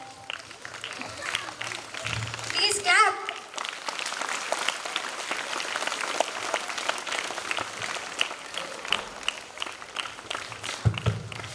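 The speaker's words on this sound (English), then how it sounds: "Please come on to the dais. Please clap." A school audience at a high school skill event claps for guests being called to the stage, steady dense applause filling the hall for several seconds with a voice speaking briefly near the start.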